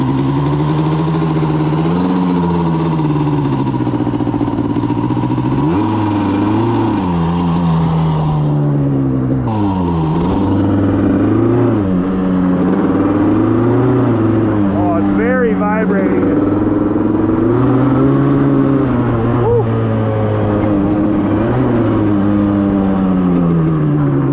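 A 1988 Suzuki LT250R ATV engine running in gear, a loud, close, buzzy note that rises and falls with throttle blips and revs throughout, with someone talking over it.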